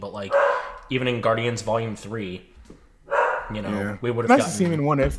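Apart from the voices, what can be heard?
dogs barking upstairs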